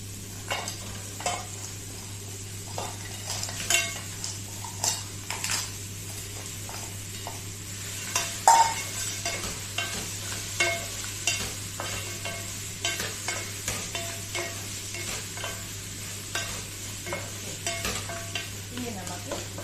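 Crab pieces frying in a pan with wilted onion, tomato and green chilli, a soft continuous sizzle under repeated rhythmic scrapes and taps of a spoon stirring, close and fairly quiet, without speech.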